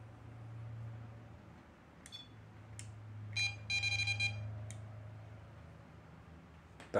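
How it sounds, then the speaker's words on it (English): Several short, high electronic beeps sound intermittently over a low steady hum, ending with a sharper burst of noise. "Is that beep for yes?"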